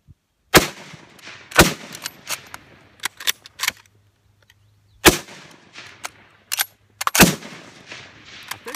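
Marine infantry veterans fire 1903A3 and Enfield .303 rifles outdoors, several sharp loud cracks spaced a second or more apart, each followed by brief echo and clatter, with quiet gaps and a low hum between shots.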